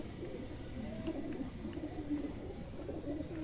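Pigeons coo softly at night, low throaty calls repeating in a steady murmur under faint background hiss, with no talking.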